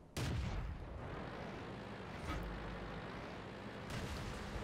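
Booming tank cannon shots in the video game World of Tanks, with a Matilda Black Prince in battle: a loud blast at the start, another around the middle and a third near the end, each trailing into a rumbling engine hum.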